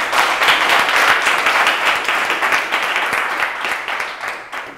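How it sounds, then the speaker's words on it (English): A startup-event audience claps loudly and continuously, a thick even patter of many hands that holds steady and eases slightly at the close, with no talking. "So if we can just give him a round of applause."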